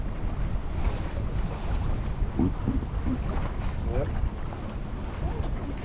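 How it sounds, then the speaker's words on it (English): Strong wind gusts roar across a racing sailboat at sea, with broadband rushing buffeting the microphone throughout as water sloshes beneath; a crew member speaks a brief word over the steady blustery noise. "I think we've got a gust coming."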